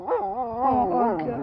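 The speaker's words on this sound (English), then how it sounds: "He's barking at the poor baby." A scared, unfriendly neighbor's dog lets out a drawn-out, whining howl-like bark, loud and close, with a wavering pitch.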